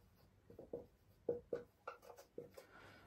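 Marker or chalk writing on a board during a maths lesson on sets, a series of short squeaky strokes and taps, close and faint, with quiet pauses between.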